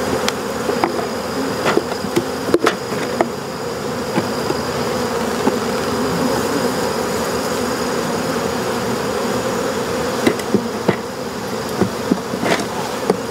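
Honey bees buzzing around an open hive during a colony split, a dense continuous hum close by, with occasional louder passes and small knocks of frames.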